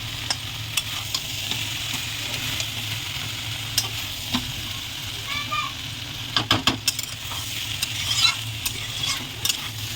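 Country chicken is sautéed in a pan with red masala, a close, even sizzle under frequent spatula scrapes and taps that grow busier toward the end.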